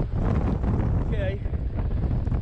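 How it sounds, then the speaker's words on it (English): Strong crosswind buffets the microphone on an exposed, open-mesh-free stretch of the Salisbury Viaduct near Meyersdale, Pennsylvania, a steady loud low roar with a faint brief whistle partway through. "we got no mesh, really hard crosswind"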